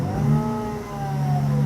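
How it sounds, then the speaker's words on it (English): Supercharged Lexus IS200 engine idling on a dyno, a steady low mid-pitched hum with a faint rise and settle in tone, fairly close and alone without talk. "Is it now idling by itself like that, or are you on the throttle?"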